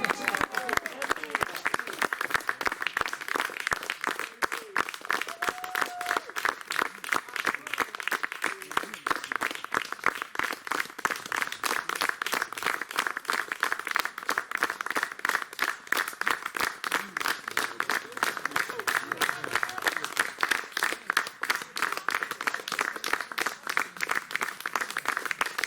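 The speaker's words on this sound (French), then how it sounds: "On peut applaudir encore, ça fait longtemps." Wedding guests clapping for a long stretch, a dense, fast and steady patter of many hands at moderate loudness, with voices chattering underneath.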